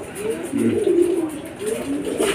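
Racing pigeons coo softly at their loft, a couple of low, rolling bursts close by against a quiet background.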